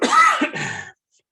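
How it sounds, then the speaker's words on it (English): A single person coughs or clears their throat once, close and fairly loud, then silence follows; no talking. "Excuse me as I cough."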